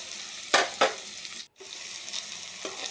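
Onions fry in a pan for a pork curry with a steady close sizzle, broken by two stirring scrapes and a brief gap before the crackle resumes.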